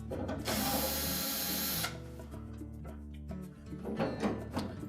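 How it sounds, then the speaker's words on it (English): Phillips screws come out of the top of a Whirlpool dryer, a power driver whirring loudly for about a second and a half, then ratcheting clicks and handling noises. "That will give us access to two Phillips screws that secure the top to the inlet duct assembly, and we'll need to remove those."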